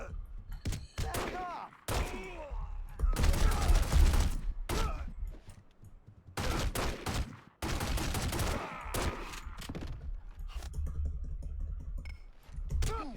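Gunshots in the video game The Godfather: The Game, repeated loud bursts and single sharp shots separated by brief pauses, with clicks and thuds in between and talk mixed in at times.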